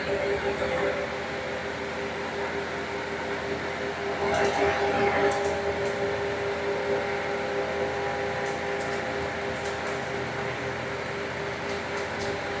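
Dual SPAL brushless radiator fans on a 2005 Toyota Landcruiser run with a steady, airy whoosh and a faint tonal hum. Brief clicks and a short swell break up the sound partway through.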